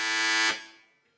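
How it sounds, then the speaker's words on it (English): Quiz contestant's buzzer at a university capital-market challenge: a single loud, half-second electronic tone that cuts off sharply and then rings away. "Buzzer number 4."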